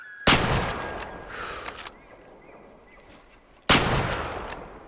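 Two loud rifle shots fired outdoors at a Kodiak grizzly bear, several seconds apart, each a sharp close crack with a short rumbling tail, and faint sounds in between.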